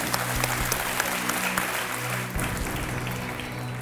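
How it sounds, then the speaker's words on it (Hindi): A TV quiz show studio audience applauds steadily, a dense patter of claps that carries on without pause from start to finish. "तालियों के साथ आपका स्वागत है।"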